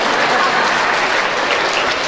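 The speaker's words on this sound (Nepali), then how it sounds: "ताली फड्काउनु पर्छ बुझ्नुहुन्छ" A comedy show audience claps loudly and continuously, a thick, even roar of many hands that holds at the same level from start to finish with no voices standing out.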